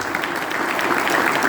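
Sustained audience applause at a political speech in Quequén, a dense, steady clatter of clapping hands filling the whole moment without pause, loud and close, with no clear voices over it.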